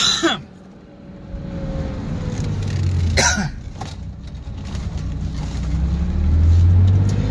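A car pulls away after idling, its engine rising and falling in a steady drone with gentle revving as it drives, and a brief cough or throat clearing is heard near the start.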